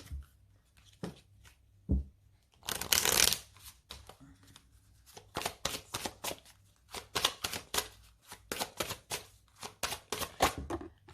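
Lenormand cards drawn and laid down on a table: a run of crisp, close card flicks, slaps and shuffling swishes in quick irregular bursts, with quiet pauses between.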